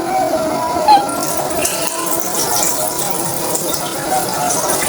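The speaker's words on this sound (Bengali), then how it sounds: "পোলাও এখন ধোয়া হচ্ছে" Pulao rice being washed in water, a steady close rush and swish of running water with sloshing grains, continuous and fairly loud throughout.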